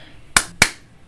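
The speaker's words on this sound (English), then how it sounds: "I'm gonna clap." Two sharp, close hand claps land about a quarter second apart, each crisp and loud in an otherwise quiet room, with no voice heard.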